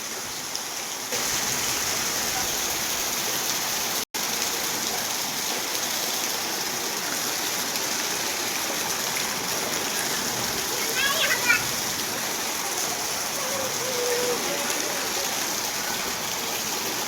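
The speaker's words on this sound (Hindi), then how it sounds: "जोरदार फुल फाट स्पीड से बारिश।" Heavy rain with wind pours down in Dharad village, Ratlam, a dense, steady hiss of water on surfaces close by, unbroken for the whole stretch, with a faint high chirp briefly rising through it.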